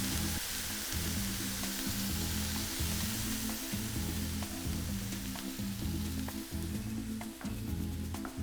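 Water hits roasted spices in a large pan for Thai braised duck (pa-lo), setting off a loud, dense sizzle that stays steady throughout, with a faint rhythmic stirring beneath and no talk.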